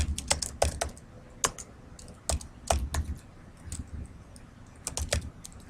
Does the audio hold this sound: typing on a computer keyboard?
yes